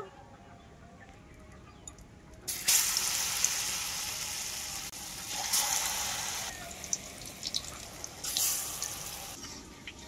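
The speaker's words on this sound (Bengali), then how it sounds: "এই সজনে ডাঁটাগুলো ব্যাটারের মধ্যে ডুবিয়ে ভেজে নেব ভালো করে" Moringa drumsticks dipped in batter fry in hot oil, a broad crackling sizzle that jumps louder as pieces drop in and swells again twice as more go into the pan.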